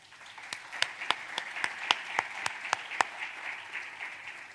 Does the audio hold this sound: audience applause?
yes